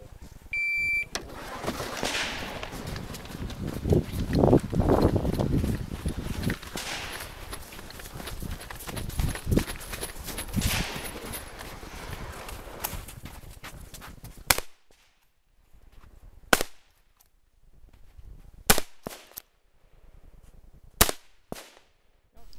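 Rifle shots from an 1896 Winchester at a Winter War commemorative shooting competition in winter: sharp, loud reports with gaps between them, following a stretch of broadband noise and bustle.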